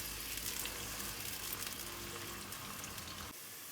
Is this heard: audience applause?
no